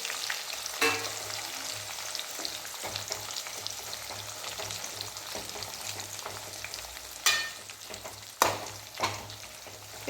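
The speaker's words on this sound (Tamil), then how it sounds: "இந்த பிரண்டை எண்ணெயிலேயே கொஞ்ச நேரம் நல்லா வேகணும்." Perandai (adamant creeper) stalks and garlic fry in hot oil, giving a steady soft sizzle throughout with a few sharper stirring scrapes near the end.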